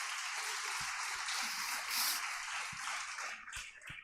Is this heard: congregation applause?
yes